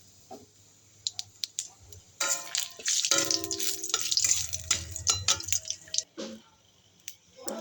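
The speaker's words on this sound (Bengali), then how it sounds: "গরম হয়ে গেছে, এর মধ্যে ফোড়ন দিয়ে দেবো গোটা জিরে, তেজপাতা আর গোটা" Whole cumin, bay leaf and whole garam masala dropped into hot oil in a pan for a rohu fish curry, giving a loud burst of crackling sizzle after a few soft drips and clicks, then settling into spattering.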